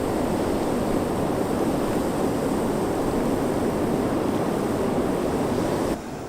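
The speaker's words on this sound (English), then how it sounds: "Basically hearing or feeling the Orange River physically and nothing else." Steady broadband rush of the Orange River flowing close by at a riverside spot in the Richtersveld, a continuous loud wash like surf, with no voices, dropping slightly in level at the very end.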